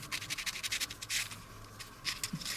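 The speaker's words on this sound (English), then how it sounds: "what you'd want to do on the teeth is give them a bit of a sanding too" Fine 800 grit sandpaper rubs quickly over the sprocket teeth of a plastic model tank, a close, faint, rhythmic series of short scratchy strokes with no talking.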